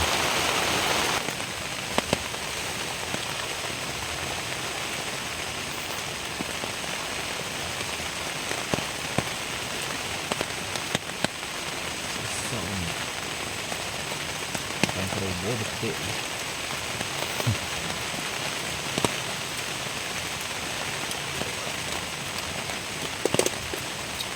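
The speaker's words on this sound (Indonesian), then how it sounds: "Hujan." Heavy rain pours steadily at night over a riverside campsite, a dense, loud, continuous patter on surfaces with scattered sharper drips and faint voices underneath.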